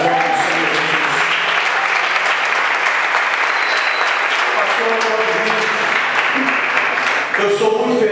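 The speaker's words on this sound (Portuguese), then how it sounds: "Dê uma salva de palmas para o Senhor Jesus." Sustained applause from a church congregation fills the space loudly and steadily, with a few voices and tonal sounds underneath.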